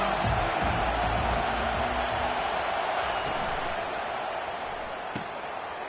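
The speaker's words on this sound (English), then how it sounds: "This crowd trying to make life miserable for this offense." A large stadium crowd at a college football game roars in a dense, continuous wash of noise, with a commentator's voice faintly audible.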